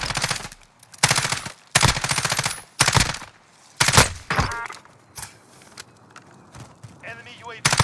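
Assault rifle fire in Call of Duty Modern Warfare comes in several short bursts of rapid shots between stretches of quieter game noise, close and loud.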